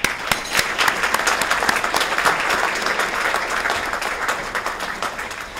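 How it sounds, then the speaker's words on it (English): Sustained applause from a crowd at a chamber of commerce small business awards event, steady dense clapping filling the room from start to finish with no talk over it. "join me in a round of applause for every business owner we have joining in our"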